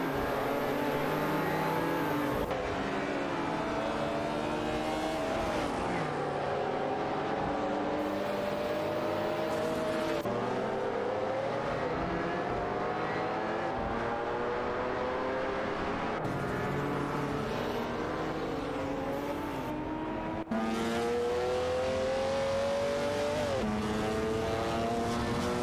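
Race cars driving on a track, engines howling and shifting through gears as several cars pass, loud and continuous, with no voices over them.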